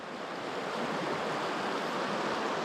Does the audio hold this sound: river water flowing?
yes